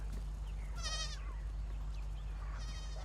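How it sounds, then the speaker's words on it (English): A small goat bleating a couple of times, wavering cries rising over a steady low hum in the background, fairly faint. "Oh, little goat."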